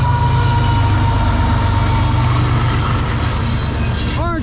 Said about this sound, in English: CXM406, orange juice train. Here we go.